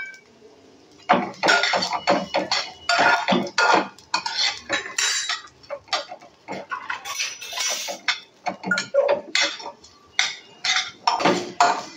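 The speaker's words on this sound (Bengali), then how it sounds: "চালটা আমি সুন্দর করে ভেজে নিচ্ছি। আঁচটা কমিয়ে নিয়ে আস্তে আস্তে করে ভাজবেন, যেন চালটা পুড়ে না যায়।" Rice for pulao is fried and stirred in a pan over low heat, with a spoon repeatedly scraping and clattering against the metal in quick, irregular strokes throughout.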